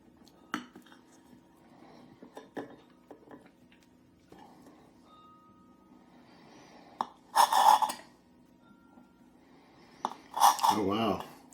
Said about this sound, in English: I'm going to try to cut slices and pieces, but I think it's a high probability they'll all fall apart